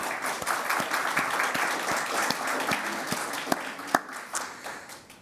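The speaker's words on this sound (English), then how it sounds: "If we'd give all of them a round of applause." A conference audience at a NYC symposium applauds sponsors, sustained broadband clapping from many people with a few sharper individual claps standing out near the end.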